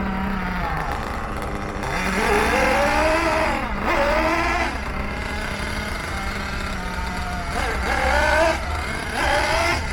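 A Hobao Hyper7 .28 nitro RC buggy engine running rich, its loud buzzing drone rising and falling through repeated revs and blips, continuous and close.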